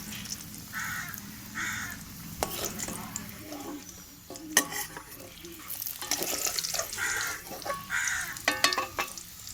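Potatoes fry in hot oil with a low, steady sizzle, broken by scraping and clattering as pieces are stirred and lifted out, while crows caw a few times in the background.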